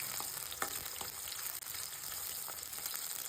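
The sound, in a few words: chillies and onion frying in oil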